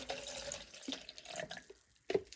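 Water, 250 ml, pouring into a drink shaker, a light trickling splash with a few drips, faint and close, ending in a brief sharper plop.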